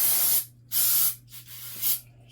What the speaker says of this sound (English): you can spray it with some cleaner and scrub it out with your brush